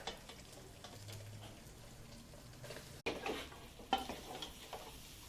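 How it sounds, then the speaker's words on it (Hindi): Beef tripe (ojri) frying in a karahi with browned ginger and garlic, a low steady sizzle with stirring scrapes and a couple of sharp clatters near the middle, no talking. "तमाम ओजरी इसमें डाल देंगे और इसे फ्राई कर देंगे"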